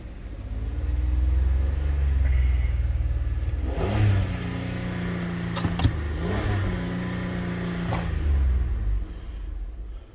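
A junk Chevy Equinox engine runs and revs hard, rising to roaring peaks around the middle and end, with a steady low rumble between surges, close and loud.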